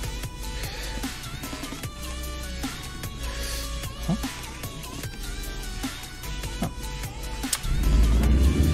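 A truck in the video game American Truck Simulator pulls away, a moderate engine drone with shifting tones and clicks, swelling into a louder low rumble near the end.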